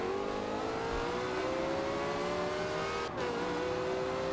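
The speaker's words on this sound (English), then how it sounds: "you got to kind of just hold it at the RPMs and let it drop, and then you step on the gas" Car engine held at high revs for a drag launch in Forza Horizon 2, a loud steady roar with a rising pitch, then a brief gear-shift dip before pulling hard again, no voices.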